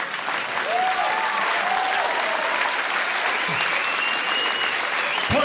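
Comedy club audience at a stand-up show breaks into sustained applause with scattered cheers, loud and continuous throughout.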